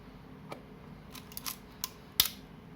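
An Olympus OM-2 film camera fires its shutter on bulb, a few faint, crisp mechanical clicks and snaps spread over a few seconds, the last one sharpest, in quiet surroundings.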